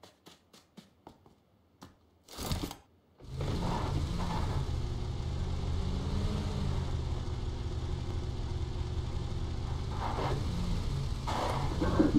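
A car engine in PUBG Lite starting up after a few faint clicks and a brief burst, then running as a steady mid-pitched drone while driving, with slight rises in revs.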